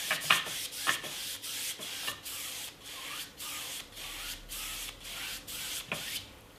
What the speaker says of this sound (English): Now I'm going to switch back to the bristle brush and we'll soften the whole of this area out.